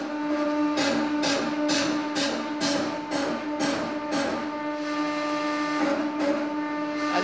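A hydraulic press builds pressure on soda cans packed into a Pringles can, giving a steady mechanical whine and hum with a regular series of pulsing, clicking strokes, close and constant.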